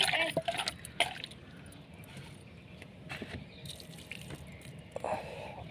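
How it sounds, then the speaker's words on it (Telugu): Water is poured onto potted plants, including sprouting ginger: faint, irregular splashes and trickles soak into the soil, with a few sharper bursts against a quiet background murmur. "వాటర్ కొంచెం పోసాను."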